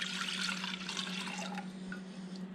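Balsamic vinegar, about two cups, poured into a pot on a kitchen stove, a steady close splashing liquid pour that runs continuously throughout with a low hum underneath.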